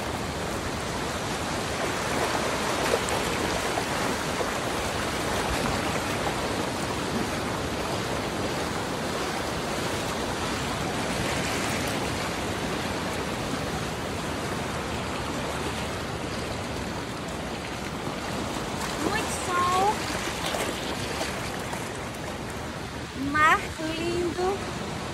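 Sea waves washing onto the beach at Guarujá on a sunny day, a steady broadband surf rush filling the whole stretch, with faint voices and brief louder splashes near the end.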